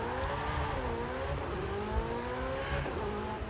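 A car engine in a racing video game revs steadily through rising and falling gear-like pitch sweeps, a continuous loud buzzing drone with a brief dip and climb, heard alone without voices.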